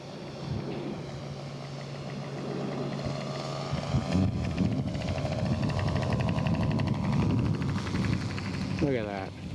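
A radio-controlled scale Corsair model aircraft making a carrier landing at an outdoor scale aircraft show, its engine droning and buzzing with shifting pitch while people talk nearby.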